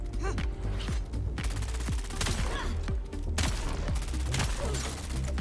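Rapid volleys of disruptor weapon fire in the sci-fi game Dune Awakening, loud bursts of repeated shots with electronic crackle over a constant game background hum.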